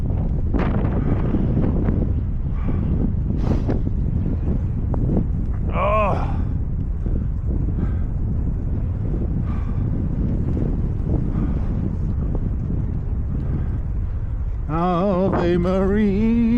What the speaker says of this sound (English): Oh, the wind's really at us.